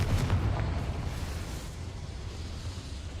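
A Confringo fire spell cast in Hogwarts Legacy bursts with a loud, booming blast up front, then trails into a sustained rumbling crackle that slowly fades over a few seconds.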